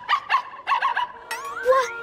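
A cartoon wolf puppy gives a quick series of small yipping barks, then a rising whimpering whine, all close and clear with nothing else behind it.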